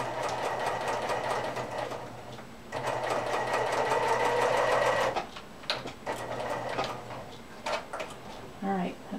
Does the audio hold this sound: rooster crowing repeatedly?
no